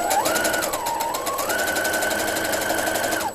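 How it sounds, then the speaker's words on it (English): A sewing machine runs steadily over fabric with pins turned sideways, stitching for a garment gown; a loud, close motor whine holds throughout, briefly dipping in pitch before rising again, with fast stitch ticking and no talk. "you can actually sew right over them as long as the head's out of the way there"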